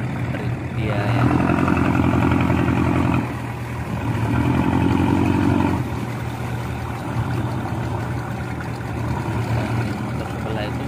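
A yellow wooden jukung motorboat loaded with coconuts moves forward, its engine giving a steady low throbbing drone with a strong rhythmic hum that swells twice, while someone talks over it.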